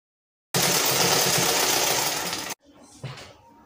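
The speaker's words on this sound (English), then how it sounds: "Then you sew little, like very close to the band." A sewing machine stitches Ankara fabric close to a band on a child's polo top in one loud, steady two-second burst, followed by quiet handling noise.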